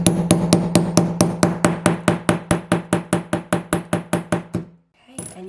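A grommet setting tool is struck with a hammer in a sewing project, about twenty sharp, evenly spaced blows in a steady fast rhythm, loud and close, ending with a brief pause and a softer clatter.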